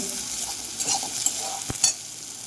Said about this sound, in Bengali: একটা গোটা শুকনো লঙ্কা দিয়ে দিলাম এটা শুধুমাত্র গার্নিশিংয়ের জন্য একটু ভেজে নেব